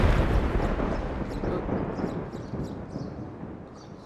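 A thunder sound effect in a costume drama scene: a loud, deep, broad rumble that is strongest at the start and slowly fades over about four seconds, with no voices.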